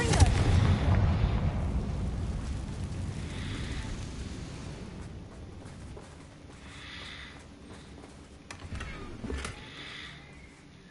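Fire-spell explosions in the Hogwarts Legacy video game, a loud opening blast with rumbling decay followed by fainter bursts and crackles under game ambience.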